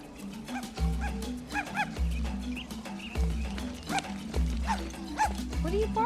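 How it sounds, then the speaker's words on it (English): A dog barks in short sharp bursts, repeated at a steady pace nearby, while people talk alongside. "What are you barking at?"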